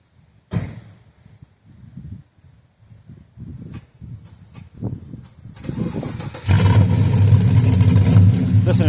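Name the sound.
1969 Chevrolet Chevelle engine rumbling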